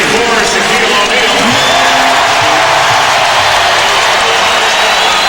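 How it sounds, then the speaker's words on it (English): Basketball arena crowd at a 1999 Lakers vs. Magic NBA game, a loud, dense roar of cheering right after a foul is called on Shaquille O'Neal, sustained throughout with a commentator talking over it. "the crowd exults as the foul is called on Shaq"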